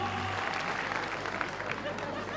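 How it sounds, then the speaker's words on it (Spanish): An audience claps through a live comedy concert, a continuous wash of applause mixed with a low hum and some crowd noise. "Fuerte el aplauso para Mirta!"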